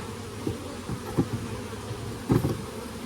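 Honeybees buzzing in an opened hive during an inspection, a close, continuous droning hum with a few louder swells as bees pass near.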